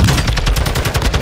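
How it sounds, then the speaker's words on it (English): Rapid automatic gunfire in the Warzone battle royale video game, a loud continuous stream of shots close up, with no talk over it. "Shooting."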